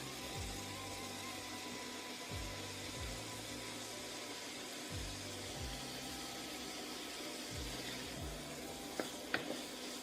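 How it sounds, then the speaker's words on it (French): Shrimp frying separately in a pan for nasi goreng, a faint continuous sizzle under a recurring low mechanical hum, with a couple of small clicks toward the end and no talking. "Je fais cuire les crevettes séparément."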